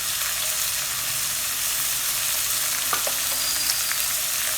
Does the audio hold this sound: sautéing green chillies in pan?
yes